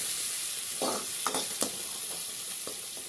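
Onion and mustard seeds frying in oil in a pan, a steady close sizzle with a few louder crackles and bursts as the onions are stirred.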